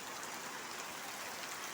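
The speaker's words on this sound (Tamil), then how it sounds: "இன்று எங்கள் ஊர் குறும்பப்பட்டியில் அதிபயங்கர கனமழை பெய்து கொண்டிருக்கிறது." Heavy downpour in a village, a dense, steady hiss of rain with no breaks, fairly faint and even throughout with no other sounds above it.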